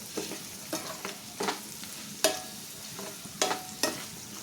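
Onions frying in a pan with a pinch of turmeric, a soft steady sizzle broken by several sharp stirring scrapes and clinks of a spoon against the pan, close by with no talking.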